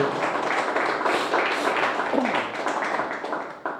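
A church congregation breaks into a sustained round of applause, dense, steady clapping filling the room for several seconds at a fairly even level.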